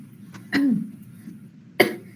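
Two separate coughs in a quiet room, a short one followed by a sharper, louder one about a second later, close to the microphone.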